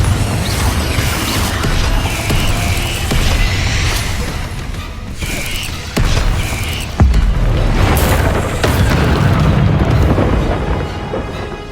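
Confringo fire-blast spell explosions in the Hogwarts Legacy video game, with repeated loud booms and crashing impacts over dense game combat noise, including a sharp hit near the middle of the fight.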